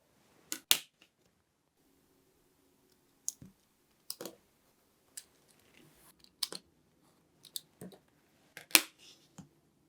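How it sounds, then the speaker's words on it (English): Cutting the corners of a small handmade leather book, heard as a series of sharp, close clicks and snips spaced a second or two apart over a quiet background. "I'm going to trim the corners."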